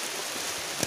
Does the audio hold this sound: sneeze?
no